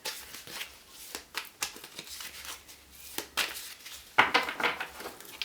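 Goddess oracle cards being shuffled by hand nearby, giving quiet, irregular riffling and tapping bursts with louder clacks toward the end.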